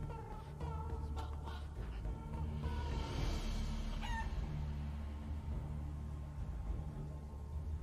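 Chickens cluck and a rooster crows in the video game Guacamelee 2, with several bird calls over a steady low game rumble and no talk.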